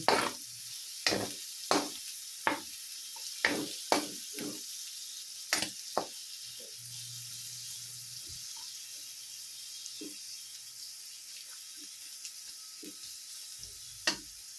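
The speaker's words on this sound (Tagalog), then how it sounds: "Lagay na rin natin yung sibuyas. Ayan, haluin lang natin." Onions sautéing in a pan for ginataang talong, a steady close sizzle under a series of sharp scraping and tapping strokes from stirring, frequent at first and then sparser, with a faint low hum partway through.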